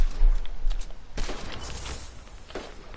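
Bursts of SCAR assault rifle fire in Fortnite crack out near the start, followed by a sharper loud shot and scattered fainter pops with shuffling movement, heard without any talking.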